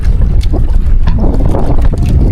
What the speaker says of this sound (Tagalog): Hangin pala. Hangin.